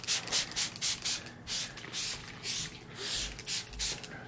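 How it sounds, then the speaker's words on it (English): Ethos Defy waterless wash sprayed onto a dirty, salt-covered car, a series of short, hissing trigger-sprayer bursts in an uneven rhythm, close and clear. "I'm gonna spray it until I can't"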